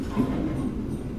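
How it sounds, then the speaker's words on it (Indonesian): Executive-class train rolling past the Cipinang locomotive and carriage depot, heard from on board as a steady low rumble of wheels and carriage noise, continuous and fairly loud for a brief moment with no talking. "Saat ini melintas di area depo lokomotif dan depo kereta Cipinang."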